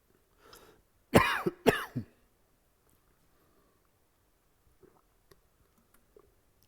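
A man coughs and clears his throat during an online lecture, two sharp loud bursts close to the microphone followed by near silence with a few faint clicks.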